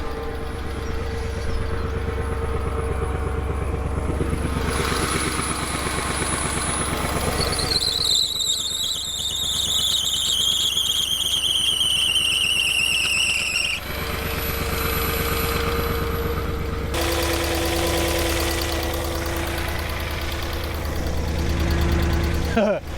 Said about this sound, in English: you can hear that ticking.